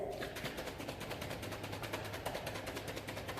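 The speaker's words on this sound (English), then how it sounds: "We have that sloshing sound again, and now there's something kind of thumping around in our container." Cream being shaken by hand in a closed container to make butter, giving a steady, fast rhythmic sloshing with a soft solid lump thumping against the sides, continuous and close.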